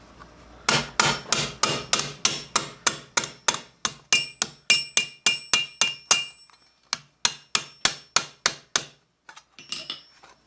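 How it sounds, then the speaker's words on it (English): Steel gauntlet cuff for a Milanese mitten gauntlet hammered on an anvil, a steady run of about two dozen sharp ringing metal blows, close and loud, with a brief pause near the end before a few more strikes; no voices. "Then you put it on your anvil and you hammer it"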